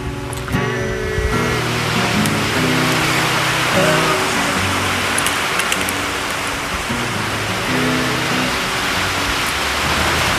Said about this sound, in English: Get you out of the rain.